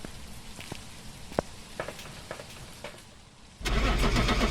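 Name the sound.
truck engine starting in a ghost-hunting video game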